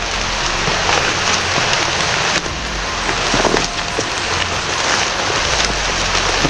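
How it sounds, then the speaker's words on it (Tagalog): Steady, heavy rain pours down, a dense wash of drumming on surfaces with no voices, constant and loud throughout. "Kalakas ang ulan mga kaidol."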